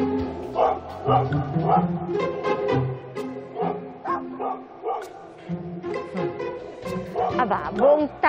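Cindy, a Golden Retriever, barks repeatedly at someone peering over a house fence, sharp close barks with some whimpering, mixed with people talking.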